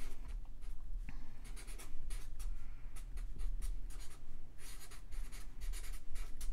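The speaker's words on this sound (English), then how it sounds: "Let me just write it down." A marker or pen writes on a board while a physics problem is worked out, producing bursts of scratchy squeaking strokes in an irregular rhythm, close and fairly loud, with no speech over it.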